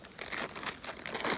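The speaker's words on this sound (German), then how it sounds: "Und mit diesem Zipper habt ihr dann auch gleich hier eine richtig gute Tüte." Plastic zipper storage bag included with hiking trousers, crinkling and rustling close up in a continuous, uneven crackle.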